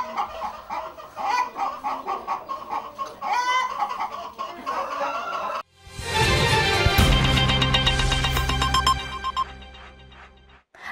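Dong Tao chickens cluck in a repeated, busy pattern, near and fairly loud, with a louder burst of farmyard noise in the second half; no talking.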